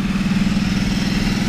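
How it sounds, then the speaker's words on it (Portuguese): A Ducati Multistrada motorcycle engine on a seaside boulevard in Balneário Camboriú, a loud, close, steady low throb with a rapid pulsing rhythm, holding even for the whole moment. "A Ducati aí, Multistrada"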